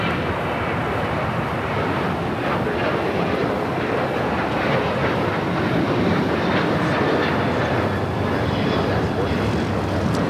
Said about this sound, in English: Flight heading to Chicago O'Hare, American Airlines flight 1594